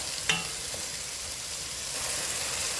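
Ingredients for Bahamian rice sauté in a pot with a soft, continuous sizzle and frying hiss. A single faint clink comes near the start, and no one speaks.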